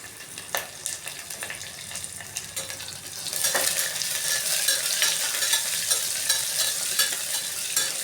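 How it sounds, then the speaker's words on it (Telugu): Onions and garlic fry in a pan for tomato curry, a soft stirring scrape giving way to a louder, steady sizzle, close by with no talking. "మళ్ళీ మూకుడు పెట్టి మళ్ళీ మూకుడులో వేయించి"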